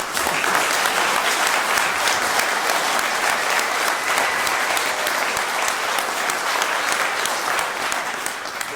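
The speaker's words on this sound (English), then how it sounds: "not got time for all this clapping, folks" Guests at a wedding clap together in a long, thick wash of applause that holds steady and loud from start to finish, with no speech over it.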